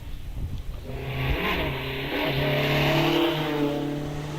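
Rally car at a hillclimb start line, engine revving up then launching away with rising, sustained engine tone and gear changes, fairly close, no talk over it.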